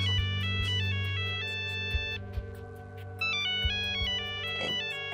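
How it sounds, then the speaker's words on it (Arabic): A phone ringtone plays a bright, stepped electronic melody that repeats its pattern, loud and clear over a low steady hum, with no one talking. "لو التليفون مهم رد عادي"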